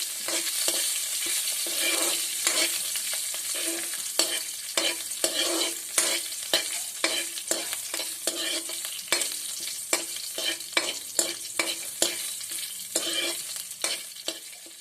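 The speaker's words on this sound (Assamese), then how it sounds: "এতিয়া আটাইখিনি আমি 1 মিনিটৰ বাবে ভাজি ল'ম।" Garlic, ginger and chillies fry in a pan over low heat, giving a steady sizzle with repeated scraping stirs and clinks of a spatula throughout, close and moderately loud with no voices.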